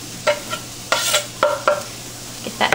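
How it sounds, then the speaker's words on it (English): Finely chopped fresh garlic, about four cloves, sizzles in a skillet with onion for lasagne. A bright crackle runs under several distinct scraping stirs, close and fairly loud, and nobody speaks. "I've got about 4 cloves of fresh garlic that I've chopped really fine. We're going to put those over in our pan."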